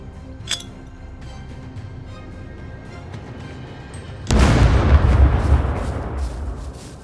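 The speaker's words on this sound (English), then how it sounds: "Alright, throwing the grenade." A grenade explosion in a video game goes off suddenly as one loud, broad blast after a quiet stretch and then rumbles down slowly.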